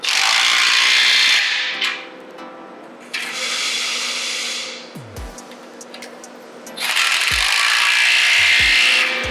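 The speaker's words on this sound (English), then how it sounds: "Adjust the clamp and tighten it down." Exhaust clamp being tightened on a BMW G8X M3/M4 during an AWE exhaust install, loud bursts of a power tool whirring in three long runs with metallic clicks and knocks between them.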